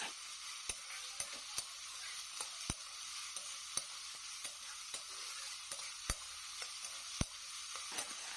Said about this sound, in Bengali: সয়াবিন ভাজা হয়ে গেছে